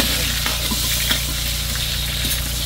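Garlic frying and sizzling in a pan at a seaside cooking spot, a steady dense crackle running close and loud throughout with occasional sharper pops and stirring scrapes, no talk.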